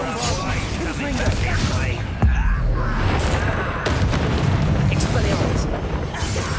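A Confringo spell blast from the video game Hogwarts Legacy, a sudden booming explosion near the 2-second mark followed by crackling, rumbling battle noise and a second burst, with a voice speaking over the action.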